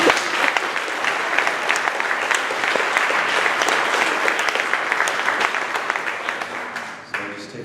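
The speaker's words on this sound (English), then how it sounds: "another round of applause for Natasha" Loud, sustained audience applause for a presenter at a talk on racial microaggressions, dense clapping holding steady for several seconds with faint voices mixed in.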